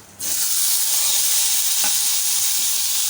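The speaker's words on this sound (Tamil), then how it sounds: "தக்காளியோடு சேர்த்துட்டு கலந்து விட்டுக்கோங்க" Tomatoes dropped into hot oil with green chilli and ginger, setting off a sudden loud, continuous sizzle that keeps going, with one brief stirring scrape near the middle and no speech.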